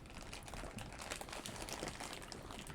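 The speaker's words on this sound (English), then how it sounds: "I'm sorry if you hear the bag rustling." A bag of shell-on pistachio nuts rustles and crinkles faintly and continuously nearby, a soft crackling texture with no voices over it.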